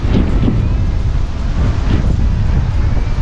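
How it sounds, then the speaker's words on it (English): Ocean waves crash and wash in a loud continuous roar at Coco Cay, mixed with heavy wind rumble against the microphone. "And the crashing waves."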